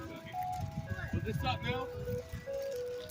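An ice cream truck plays Camptown Races as a thin, tinny electronic melody outdoors, a few sustained notes heard beneath nearby people talking, with some road traffic rumble.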